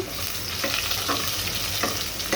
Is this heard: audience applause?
no